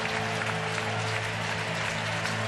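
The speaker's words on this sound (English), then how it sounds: "You hear the crowd" A big ballpark crowd at a Braves vs Phillies baseball game applauds and cheers in a dense, steady wash of sound that holds evenly throughout with no voices standing out.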